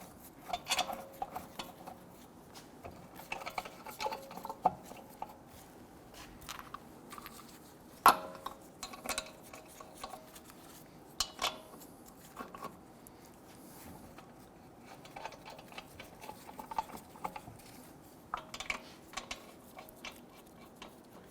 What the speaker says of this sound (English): I'm going to go ahead and get our lug nuts started here